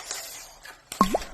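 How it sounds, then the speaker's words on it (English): Two fizzy tablets drop into a toy volcano, giving a couple of small, close plops and a wet splash-like blip after a brief quiet stretch. "Now we need to drop 2 fizzy tabs into the volcano."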